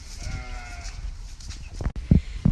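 Sheep on a farm behind a house bleat softly amid outdoor background noise, with a couple of louder, nearer calls toward the end.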